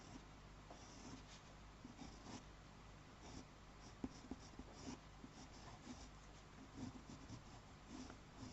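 A colored pencil scratches steadily across textured Canson Mi-Teintes pastel paper, a faint, continuous scratchy rubbing with soft stroke pulses and no speech.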